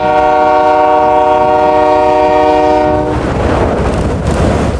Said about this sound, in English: Southern Pacific Rotary Snowplow, MW208.